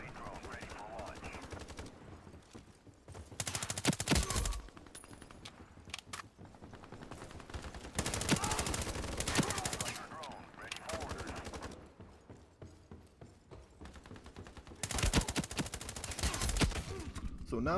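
Vector submachine gun from the shooter game Ironsight fires in three loud rapid bursts separated by quieter stretches, the crackling automatic fire dominating while it lasts.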